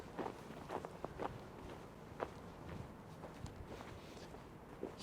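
Footsteps walk away from the camera while someone tests a DJI Mic 2 against a DJI Mic 1, a handful of soft irregular steps over low background noise, fading slightly with distance.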